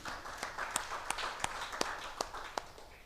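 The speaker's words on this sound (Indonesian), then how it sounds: "Bisa tepuk tangan buat Tuhan Yesus, saudara?" A church congregation applauds during a sermon, heard as faint, sparse claps landing in a loose rhythm, roughly a handful of distinct hits over a soft room background.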